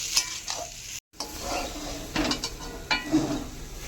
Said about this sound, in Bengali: কিছুক্ষণ আমটা নেড়ে নেব।